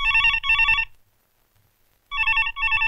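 A telephone rings with a trilling electronic bell in two double bursts, separated by a second of silence, loud and close.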